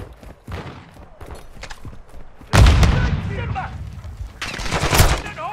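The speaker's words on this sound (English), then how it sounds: "Taking effective fire." Heavy gunfire in Call of Duty Modern Warfare 2 DMZ mode: loud, dense bursts of automatic and booming shots erupt midway and again near the end, over quieter background game noise.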